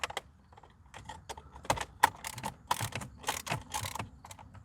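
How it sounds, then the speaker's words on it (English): Socket wrench with ratchet and extension loosening a bolt on a Lincoln Aviator door: rapid, close clicking bursts of the ratchet pawl, irregular and sharp, heard alone without speech. "you're going to want to grab your socket and ratchet"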